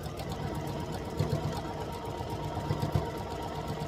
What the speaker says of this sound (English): I'm going to sew all on these lines, then turn them around and sew on that other secondary line